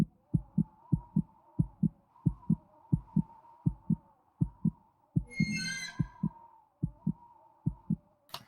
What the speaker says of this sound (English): The heartbeat in the background there just makes it so much more intense.